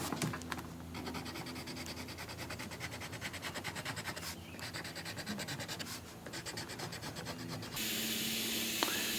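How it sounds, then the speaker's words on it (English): A marker or pencil drawn freehand across a vintage camper's replacement ceiling panel, giving a steady, close scratchy rubbing that runs almost continuously with brief pauses, then shifts to a brighter, louder scrape near the end. "Now I'm drawing a line on the inside of that, just freehand"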